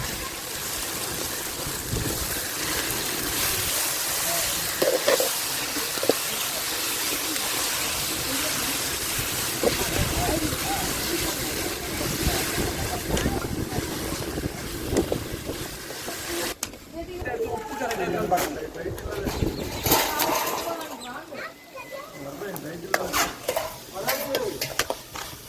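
Dried fish sizzles and is stirred in a hot pan while cooking for a dried fish sambal, a steady crackling hiss with scraping, under a person talking throughout.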